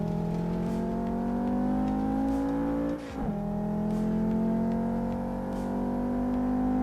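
The racing simulator Assetto Corsa on PC drones with a steady high-revving car engine, one quick downshift blip midway, then the revs climb back, loud and continuous with no talk.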